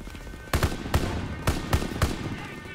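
Gunshots in Call of Duty WWII during a Rhine river battle, five sharp single rifle shots spaced roughly half a second apart over a low background rumble of game ambience.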